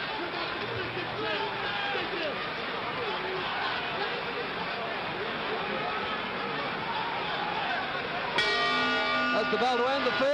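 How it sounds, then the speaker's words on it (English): A boxing ring bell rings near the end to close the fifth round of the 1964 Cassius Clay vs. Sonny Liston heavyweight fight, a clear metallic clang over a loud arena crowd and a commentator's voice. "That's the bell to end the 5th."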